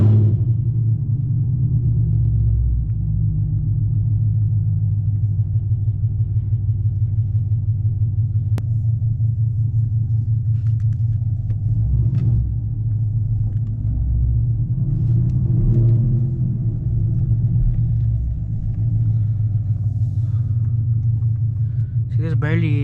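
A straight-piped Camaro rumbles loudly from inside the cabin while cruising dark backroads at night, a deep, steady exhaust drone with occasional swells as it accelerates, and someone talks intermittently over it.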